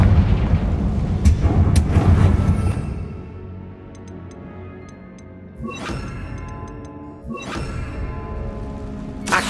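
A Confringo blasting spell explodes in Hogwarts Legacy, a loud booming burst at the start that fades, then ticking game chimes and two more sharp impacts later.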